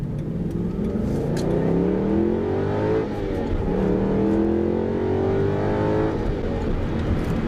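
A V8 sports car engine revs up steadily under hard acceleration on a highway, its pitch climbing through the gears in a deep, continuous roar with a brief shift around the middle.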